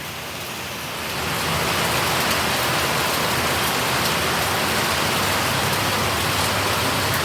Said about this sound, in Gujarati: વરસાદ તો અટાણમાં ચાલુ થઈ ગયો